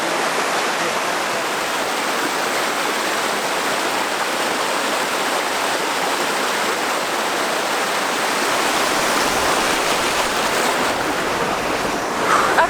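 Glacial river rapids roar in a loud, steady, broadband rush of churning water, close by and unbroken throughout.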